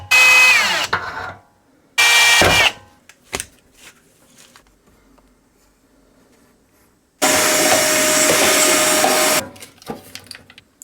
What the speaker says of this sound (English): Alright, so we're ready to drill the holes